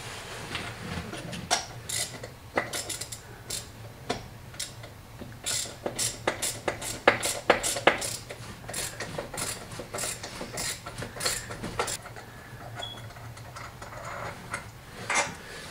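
Ratchet loosening bolts at the turbo of a BMW E34 engine, giving quick bursts of sharp metallic clicks, close by and moderately loud, broken by pauses and clanks of handling, with no talk.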